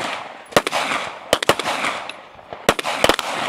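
Rifle shots ring out at a competition shooting stage, loud sharp cracks fired in quick bursts of two or three, close by, with echoing tails between the groups.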